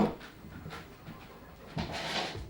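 A dog panting softly in quick, rhythmic breaths, close by and fairly faint, with no talking.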